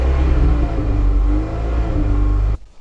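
An Audi car engine roars at a steady high rev for about two and a half seconds, then cuts off abruptly into quiet.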